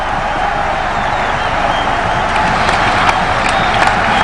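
Spectators and teammates at a Test cricket match between Bangladesh and West Indies applaud a batsman reaching fifty, a broad continuous wash of crowd clapping and cheering from a distant stadium, swelling slightly toward the end.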